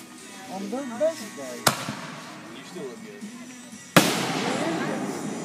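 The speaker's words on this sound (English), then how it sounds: "enjoy the fireworks when they go." Two sharp July 4th firework bangs a couple of seconds apart, the second followed by crackling, with voices talking faintly between them.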